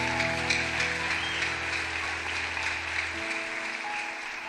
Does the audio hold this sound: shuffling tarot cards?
no